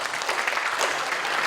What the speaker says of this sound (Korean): 우리 두 분들에게 박수 한번 해주시면 고맙겠습니다